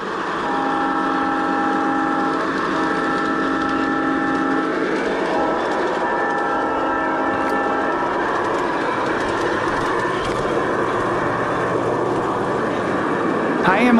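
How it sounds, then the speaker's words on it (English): A Santa Fe model train locomotive runs steadily, its tonal horn-like hum and rolling clatter continuous and fairly loud for the whole stretch, with no talk over it. "the Santa Fe -8 locomotive, which is one of my favorites because it has a great sounding horn"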